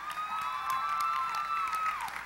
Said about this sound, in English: one more round of applause for the talented Stormy Henley